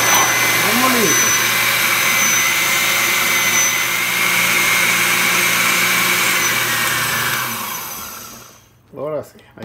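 A blender grinds garlic with pumpkin soup ingredients, a loud, steady whirring roar that runs continuously and then cuts off near the end, followed by a brief voice.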